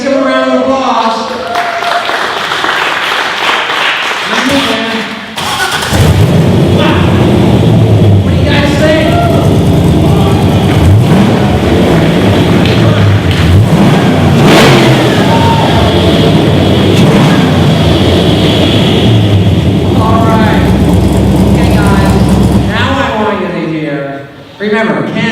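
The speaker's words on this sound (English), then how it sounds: "I'm going to ask you to fire this Vet up and really let everybody, Boomer talked about it earlier, to enjoy the sound of this Corvette" A Corvette engine at a car giveaway award ceremony starts up and revs hard, a loud, deep, sustained roar lasting around seventeen seconds, with people talking before it fires and after it cuts off.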